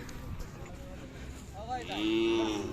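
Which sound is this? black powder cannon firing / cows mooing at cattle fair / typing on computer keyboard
cows mooing at cattle fair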